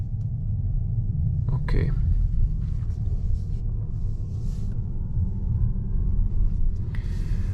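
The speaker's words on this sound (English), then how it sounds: "needs to have pedestrian warning, so you can hear some sort of sound." A faint electric pedestrian warning whine from a 2024 Lynk & Co 01 plug-in hybrid slowly rises in pitch over a low road rumble at night, with one brief spoken word.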